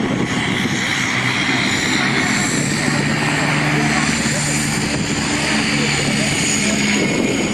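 An RAF Sea King helicopter, XZ587, flies at an air show, its rotor and engine making a steady, loud, broadband roar that holds without a break from start to finish.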